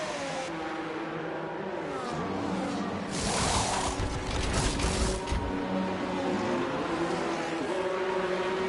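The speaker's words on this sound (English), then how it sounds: "As they're so close out of the pit lane here, Cold Steel and Fraser, and around a load of other cars is Riley and Big D" Formula 1 race cars leaving the pit lane at the Austrian circuit in an F1 racing game, a dense high-pitched engine whine from several cars revving and accelerating close by, with a louder pass in the middle and no talk.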